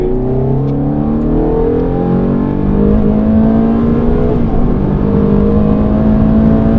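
A Ferrari accelerates hard on the Mondello Park race track, its engine note climbing steadily and loudly for several seconds, close and continuous, with no voices over it.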